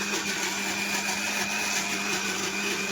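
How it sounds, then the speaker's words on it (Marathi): A mixer grinder whirs continuously at high speed, a steady loud motor drone grinding masala with no pauses or voices. "मस्त असा मसाला मिक्सरला लावते"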